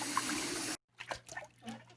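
Meat for pha lau rinsed under a running tap until the water turns clear: a steady rush of water for under a second, cut off abruptly, followed by faint scattered clatter.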